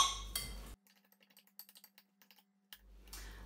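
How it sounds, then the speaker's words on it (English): A spoon stirs couscous salad in a bowl: a quiet run of small, irregular taps and light clinks against the bowl, close by and alone, framed by brief louder background noise at the start and end. "Give that a good old mix."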